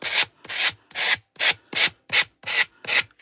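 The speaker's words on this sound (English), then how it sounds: "with my sanding block," A sanding block rubs along an MDF edge in eight quick, even back-and-forth strokes, each a close, dry, hissing scrape with brief pauses between, and no voices.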